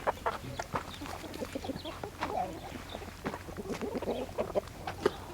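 Black, brown and speckled farm chickens clucking close by, a busy stream of short overlapping clucks and squawks against a faint outdoor background, with no talk.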